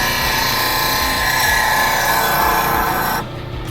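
A steel burnisher draws a burr onto a double-ended negative rake scraper, giving a continuous, close, harsh metallic scraping with a gritty rasp that stops abruptly near the end.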